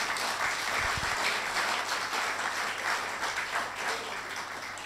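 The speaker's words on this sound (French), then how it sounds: "acclame pour toi-même." Church congregation applauds in steady, dense clapping that fills the room, sustained throughout at moderate loudness with faint voices mixed in and no clear speech.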